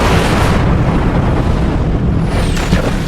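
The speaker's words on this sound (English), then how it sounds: "The aircraft bomb magazine detonates, ripping apart the St. Lo." A violent aircraft bomb magazine detonation tears apart the escort carrier St. Lo after a kamikaze strike, a sustained, dense roaring blast rumbling loudly for the whole stretch with no pause or break.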